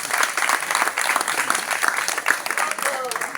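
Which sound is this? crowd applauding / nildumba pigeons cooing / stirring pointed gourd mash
crowd applauding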